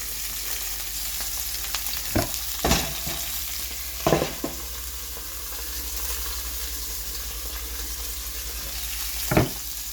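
Sausages and onions fry steadily in a pan with a continuous sizzle, broken by a few sharp knocks and clatters of a utensil against the pan.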